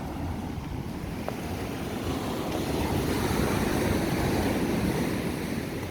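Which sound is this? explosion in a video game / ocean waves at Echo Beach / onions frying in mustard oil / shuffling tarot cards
ocean waves at Echo Beach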